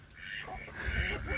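Ducks quacking at a farm where they are being fed beside a fence with pigs nearby, a few quacks rising under steady background noise and some nearby talk.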